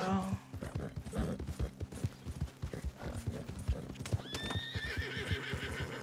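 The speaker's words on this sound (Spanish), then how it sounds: "Con este caballo." Horse hooves clip-clop in a steady rhythm through the whole stretch, with a whinny partway in, ridden in the video game Red Dead Redemption 2 amid other game sounds.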